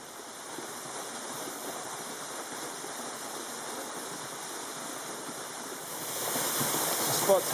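A waterfall in full flow after recent rainfall, a steady broadband rushing roar that holds constant and swells louder near the end.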